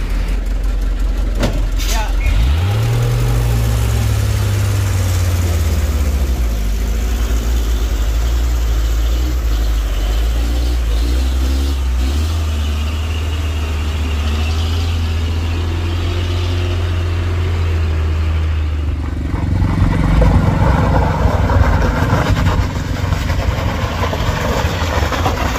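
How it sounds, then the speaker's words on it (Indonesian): A Fuso 4x2 truck strains and fails to climb the steep Batu Jomba hill, its heavy diesel engine droning loud and close, revving, dipping and surging again. People talk over it throughout. "Di sini ada truk kuso 4x2 yang gagal menanjak."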